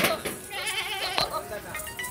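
Goats for Eid sacrifice bleat on a goat farm, several nearby wavering cries mixed with someone talking.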